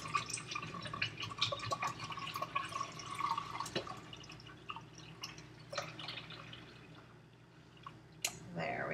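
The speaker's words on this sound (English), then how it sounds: "And then I just pour it into this pan carefully." Milk poured carefully from a freshly shaken carton into a pan for homemade yogurt, a soft continuous liquid trickle with small drips and splashes, close by, alongside light kitchen handling sounds.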